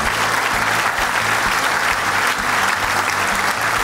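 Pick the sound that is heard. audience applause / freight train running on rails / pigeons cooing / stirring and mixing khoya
audience applause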